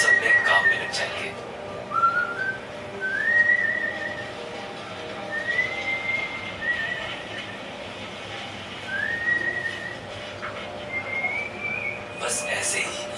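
People whistle while working in Mawsynram, Meghalaya. Short rising whistle calls repeat every couple of seconds over a steady hum, and someone talks underneath.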